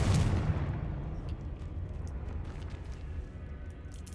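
Bombarda and Confringo spell blasts from the Hogwarts Legacy video game burst loudly at the start and then fade into a low, rumbling decay, with no speech.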